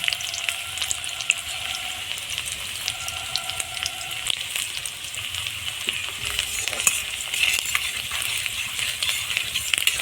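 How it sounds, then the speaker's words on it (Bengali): Onion, crushed garlic and dried chilli frying in hot oil give off a steady crackling sizzle with scattered pops and small clinks of a utensil, close and without speech. "তেলের উপর দিয়ে দিলাম পেঁয়াজ দিয়ে দিলাম থেতো করা রসুন"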